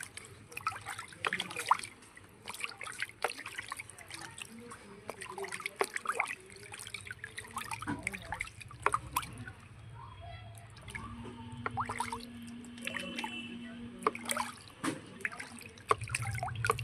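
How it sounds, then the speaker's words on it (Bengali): Water trickling and splashing in a basin as a baby is bathed, with irregular close splashes and drips over light background noise. "এই যে ও এখন স্নান করছে।"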